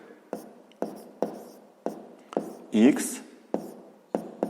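Pen writing math on paper, a string of light, close taps and scratches in an uneven rhythm, with a brief burst of voice partway through.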